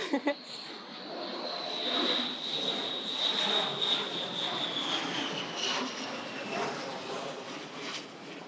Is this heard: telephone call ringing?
no